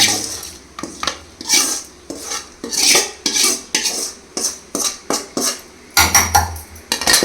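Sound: putting coconut mixture into a mixer jar

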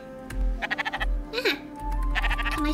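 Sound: sheep bleating in Spiritfarer video game

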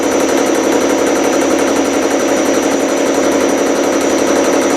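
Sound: homemade milling machine converted from pantograph running

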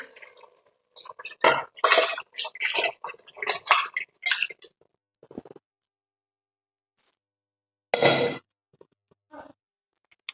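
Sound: stirring mutton curry in a pot

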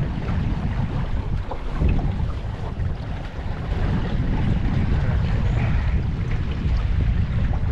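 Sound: CLC Skerry sailboat sailing in the wind

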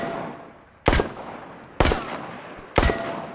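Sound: gunshots in a VR video game

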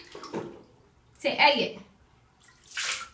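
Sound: toddler moving water in a bathtub

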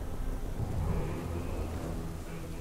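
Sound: thunderstorm in the video game World of Warcraft Dragonflight

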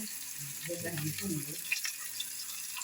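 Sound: hilsa fish frying

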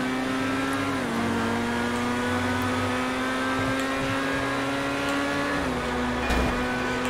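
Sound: Ferrari car engine driving in GTA V video game

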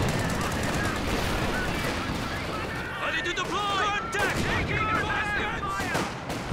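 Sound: infantry gunfire in video game Company of Heroes 2

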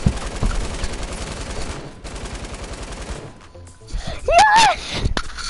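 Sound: minigun firing in video game

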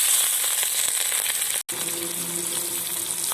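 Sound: onions frying in oil with cardamom, cinnamon and cloves

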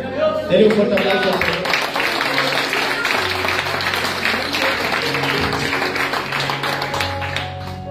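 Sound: loud applause from a church congregation

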